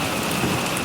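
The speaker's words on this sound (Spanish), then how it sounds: "El día del funeral no paraba de llover" Steady heavy rain pouring down on the day of a funeral, a dense, loud and constant hiss that fills a short moment with no voices.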